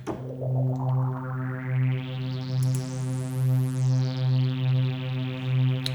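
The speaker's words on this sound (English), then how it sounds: "The analog chorus is a slightly more impactful sound." A sustained synthesizer tone glides upward then back down, shimmering with a gentle pulsing chorus and a soft wash of reverb.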